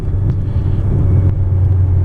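A 1996 Ford Ranger XLT pickup with a five-speed manual transmission drives along, giving a steady, close engine drone and low road rumble with a constant hum and no voices.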